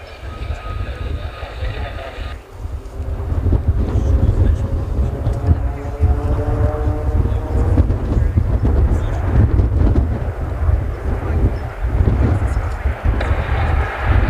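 RAAF Roulettes aerobatic training aircraft flying a high-level formation manoeuvre as two planes split away, a steady broad propeller-engine drone with wind buffeting, loud and continuous throughout.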